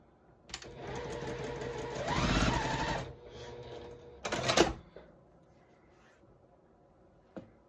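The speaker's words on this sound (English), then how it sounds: "So I just need to sew these up and make sure I get all my triangles turned the right way." A sewing machine stitches quilt triangle pieces in two bursts, a longer whirring run followed by a short quick one, then near silence with a faint click.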